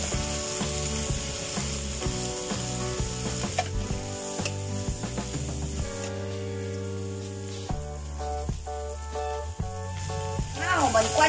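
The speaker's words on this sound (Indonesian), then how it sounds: "那我们关小火炒" Fried shallots stir-fried in oil over low heat for a taro cake, a steady soft sizzle with repeated scraping and clinking of a spatula against the pan, accompanied by background music.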